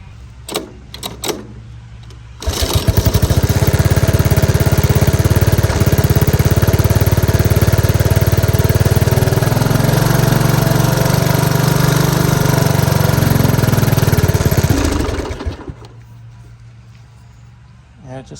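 Engine of a Honda ATC 185 three-wheeler roars to life after some clatter, holds a loud, close, steady run for about twelve seconds, then cuts out, leaving quiet handling noises.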